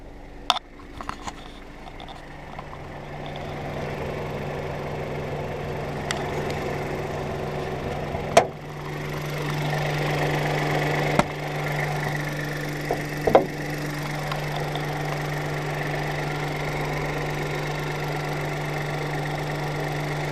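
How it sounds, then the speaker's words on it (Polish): Small 1.0-litre three-cylinder turbocharged TSI engine in a Seat Ibiza idling under the open hood, a steady low hum with a few light clicks and knocks, no talk. "Jest tutaj całkiem niewielki silnik, ponieważ jest to silnik jednolitrowy, trzycylindrowy, turbodoładowany"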